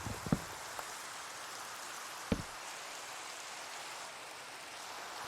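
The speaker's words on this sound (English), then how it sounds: "Dang rain." Steady rain in Minecraft, a continuous soft hiss of falling drops with a couple of brief louder taps, no talking.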